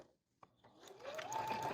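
A sewing machine stitching a half-inch seam on cloth napkin fabric, a few soft clicks before the motor whirs up into a steady, rising hum, close and alone.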